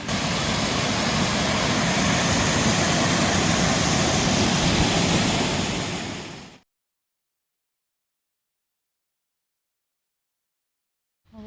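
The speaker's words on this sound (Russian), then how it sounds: "И вот такой водопадик небольшой." A small waterfall outdoors, a steady broadband rushing hiss of falling water heard close for about six seconds before cutting to silence.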